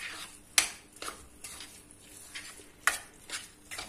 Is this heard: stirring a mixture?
yes